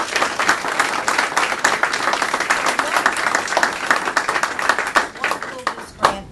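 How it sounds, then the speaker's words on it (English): An audience at a college grant announcement gives a loud, close round of applause, a dense patter of many hands clapping that carries on steadily before tapering near the end. "I think that deserves a round of applause"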